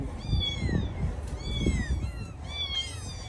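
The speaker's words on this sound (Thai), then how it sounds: "ปีนเก่งนะแมว" A cat meows repeatedly in a rhythm of clear, rising-falling cries while climbing up toward a high roof, with low background rumbles and no talk over it.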